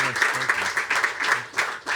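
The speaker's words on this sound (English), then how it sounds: "So I really want to give you a round of applause" An audience applauds Stephen Graham and Jack Thorne at a live lunch event, with steady clapping that swells and dips for two seconds and a voice speaking over it.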